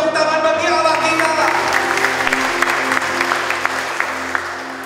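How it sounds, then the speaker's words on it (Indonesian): A church congregation claps together at a sermon, a dense wash of applause over a lingering sustained tone, steady and then slowly fading in level. "Yang percaya tepuk tangan bagi Allah kita."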